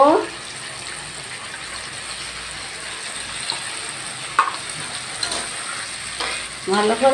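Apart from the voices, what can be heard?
sautéing spice paste with potatoes in a pan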